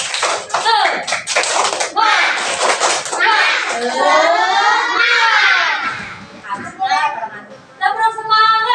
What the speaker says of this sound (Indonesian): biar semangat. Tepuk semangat.